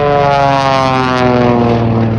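A loud, steady drone comes from an air show plane with a big radial engine and an added jet engine slung underneath, heavily loaded with fuel, heard close and continuous with no talk.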